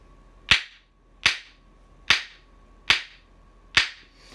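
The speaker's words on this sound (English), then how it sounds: "This is a Beshkan." Five loud, cracking Persian Beshkan finger snaps, evenly spaced and close, each a sharp whip-like pop with a quick decay, heard alone.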